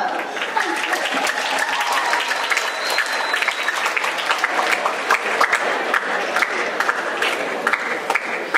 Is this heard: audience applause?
yes